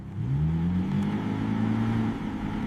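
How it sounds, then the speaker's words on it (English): A 2025 Ferrari F80 engine, restored after being recovered from the ocean, revs up and holds a steady, rising drone close by, its pitch climbing then leveling off, with no voices. "Didn't think I'd hear this engine again after that storm."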